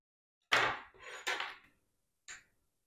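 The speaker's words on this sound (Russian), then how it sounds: "и буду мять вилкой сейчас." A few quick scraping, clinking bursts of a fork mashing diced avocado in a bowl, close by, with short pauses between strokes.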